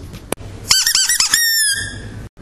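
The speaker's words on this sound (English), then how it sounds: "squeaky toy or rattle," A squeaky toy is squeezed about four times in quick succession, its last squeak stretching into a longer whine, heard close and alone with no talking.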